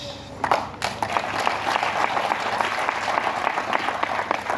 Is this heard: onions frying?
no